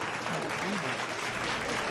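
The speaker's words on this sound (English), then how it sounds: "Let's give them a round of applause with the clapping and the hey!" A brief burst of audience clapping and cheering rises as a round of applause, a dense crowd wash with voices calling out over it.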